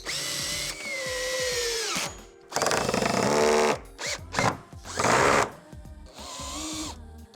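Power drill driving screws through marine plywood into a backyard fence, in several loud whirring bursts with pitch rising and falling under load, separated by brief pauses.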